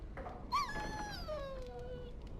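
Dog whimpering in the Dragon Age: Origins video game: a high, wavering whine that slides downward across a couple of seconds, heard close and alone with faint game ambience beneath.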